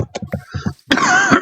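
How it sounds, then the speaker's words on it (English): A person gives a burst of short, close coughs in quick succession, then a louder sustained throaty sound that trails off. "I hate coughing, especially on camera and whatnot"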